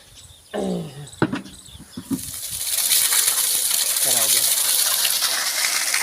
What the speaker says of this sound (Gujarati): તો બોર ચાલુ થઈ ગયો છે અને નવું પાણી આવવા લાગ્યું છે